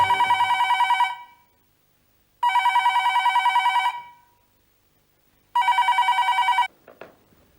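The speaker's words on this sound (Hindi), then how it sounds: "मैं उसे अभी फोन लगाती हूँ।" A telephone rings in a Hindi crime drama: three loud, evenly spaced bursts of electronic trilling ringing with silent pauses between, ending in a brief click.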